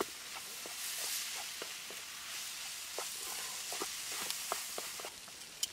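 Chicken wrap filling sizzling and charring in a pan on a folding stove, a steady low crackle with scattered sharp clicks of stirring, close and fairly quiet, no talk.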